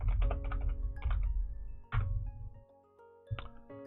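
Keys tapped on a computer keyboard in quick bursts of clacks with short pauses between them, close and fairly loud, typing a short phrase into a chatbot test window.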